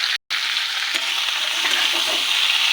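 Vegetables frying in a pan, a dense steady sizzle filling the clip after a brief silent break at the start, close and fairly loud with faint stirring underneath and no talking.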